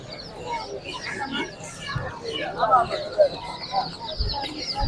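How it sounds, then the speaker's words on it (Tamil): Chickens cluck and squawk in irregular bursts, close and fairly loud, at the Broadway Sunday pet market in Chennai, with someone talking over the birds. "இந்த சைடுல பாருங்களா கோழி எக்கச்சக்கமா வச்சிருக்காங்க."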